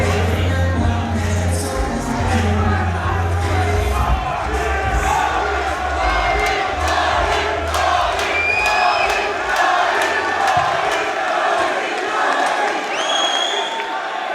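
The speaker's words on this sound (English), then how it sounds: "as the crowd and the fans behind us shout for Hardeep" Crowd at a Fightstar Championship MMA bout shouting and cheering for a fighter before round five, a dense, loud roar of many voices that holds steady throughout with scattered whoops rising above it.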